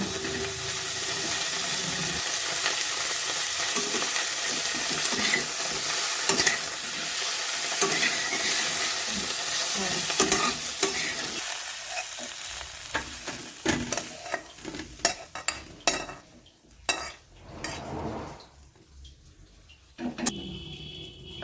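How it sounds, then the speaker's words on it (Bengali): Cauliflower fries in hot oil in a wok while being stirred, giving a loud continuous sizzle with scraping stir strokes that break up into sharper, choppier bursts in the later part. "ফুলকপিটা হালকা ভাজা হলে এবার এটাকে আমি তুলে নেব।"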